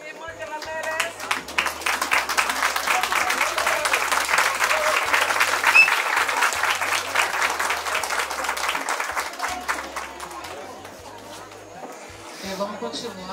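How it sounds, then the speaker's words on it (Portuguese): Party guests at a 70th birthday celebration applaud together, a dense wash of clapping that builds quickly and holds steady for over ten seconds before tapering off, with low music or chatter faintly underneath. "Vamos levantar para dar uma salva de palmas para minha irmã, que ela merece."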